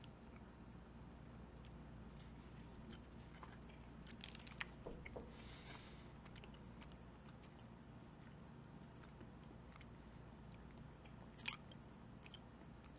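Someone bites into and chews a Ghirardelli caramel apple chocolate close to the microphone, with soft squishy mastication, a few faint crunchy clicks, and quiet background hiss.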